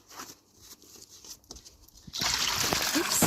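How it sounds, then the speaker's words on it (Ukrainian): Laundry gel poured into a small bowl of warm water for hand-washing a mohair garment, heard as soft patters and trickles, then a steady close splashing pour filling the last second. "Наливаємо ми в мисочку воду і додаємо гель для прання."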